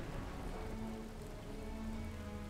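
The freezing rain spell in the strategy game Battle for Middle-earth makes a steady, even hiss of rain on a surface, continuous and moderately loud, with a faint low hum underneath.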